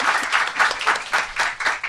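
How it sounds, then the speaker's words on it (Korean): Audience applause at a Korean talk-show recording, a short, lively burst of clapping from a studio crowd with a pulsing, uneven rhythm, fairly close and loud. "박수."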